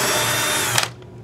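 A power drill spins out the neck screws of a Made in Japan Fender Stratocaster, a loud close whirring that stops abruptly, followed by a couple of small clicks.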